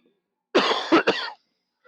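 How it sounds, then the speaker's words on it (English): A person coughs in a short, harsh burst of two or three hacks, close and loud against silence, with no talking. "I'm still coughing my fucking brains out"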